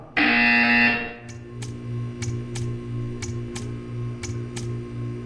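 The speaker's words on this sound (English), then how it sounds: "You will hear a buzzer. When you hear the buzzer, stare at the art." A loud electronic buzzer sounds once for about a second inside the Portal 2 video game, followed by a steady hum with a series of sharp regular ticks.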